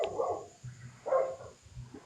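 A corgi gives two loud, close barks about a second apart, with a softer yelp at the end.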